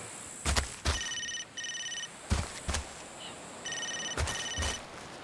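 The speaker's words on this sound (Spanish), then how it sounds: "Justo en ese momento suena mi teléfono en el bolsillo de la campera." A mobile phone rings in a jacket pocket, repeating a short electronic beeping melody in bursts, broken up by dull thumps and rustling of fabric close by.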